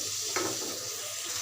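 Potatoes stirred into frying masala in a pan, a quick scrape of the spoon over a steady sizzle, close and fairly soft, with a faint second scrape near the end.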